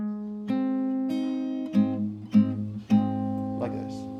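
Fingerstyle guitar for a song, single plucked notes followed by the 6th, 4th and 3rd strings struck together three times, each chord ringing clearly up close with a faint breathy noise near the end.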